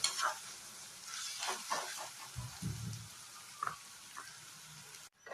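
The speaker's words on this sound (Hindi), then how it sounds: "अब इन सबको अच्छी तरह से भूनूंगा।" Quiet sizzling of onion, ginger and garlic paste frying in a pan, broken up by occasional stirring scrapes and clicks, with no voices.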